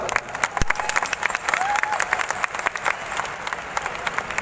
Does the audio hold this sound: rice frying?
no